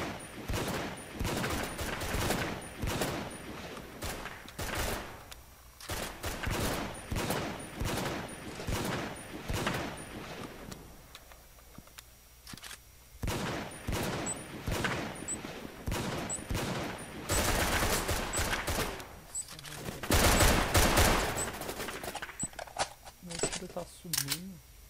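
Rapid bursts of gunfire from a weapon in the 2D shooter Brain Out, clattering in repeated volleys across the span with short pauses between, with someone talking throughout.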